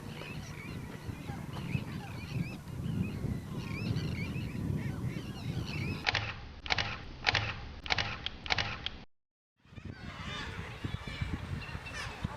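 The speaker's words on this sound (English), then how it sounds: "We've got some puffins behind us." Puffins and other seabirds call with honking cries at a busy Farne Islands colony, over wind and voices, with a run of rapid camera shutter clicks partway through.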